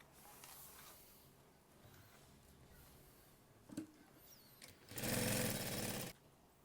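A sewing machine stitches fabric around a zipper on a document folder, with faint scattered handling noises before one close, steady whirring run of about a second.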